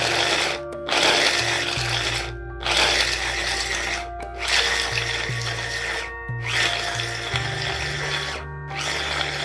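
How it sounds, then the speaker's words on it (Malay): An electric chopper whirs in repeated bursts grinding spice paste, motor pitch shifting as it grinds, with short pauses between each pulse. "Kisar sehingga bumbu halus."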